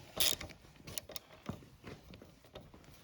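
A nut being run back and forth on the threads of a Honda SL100 to clean them, giving faint, close metallic scraping and clicking in short irregular bursts, with no voices.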